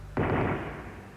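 A pump shotgun fires a single loud, booming blast that rings out and decays over about a second in an audio drama scene.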